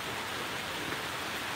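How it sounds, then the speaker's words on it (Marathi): Heavy rain pours steadily onto a shed roof, a dense continuous hiss and patter with no pauses and no voices. "परत एकदा पाऊस जोरात यायला लागला आहे."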